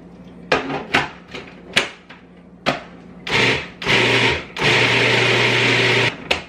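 A food processor blending kale and olive oil into vegan pesto: short whirring pulses that grow into longer sustained runs of the motor, loud and close, with thumps and clatter between bursts.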